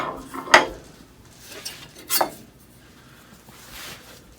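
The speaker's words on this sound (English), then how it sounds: "Just gentle scraping." Light scraping on the top of a wooden hand plane under repair, two short distinct strokes followed by a few fainter scrapes, close and quiet with no talking.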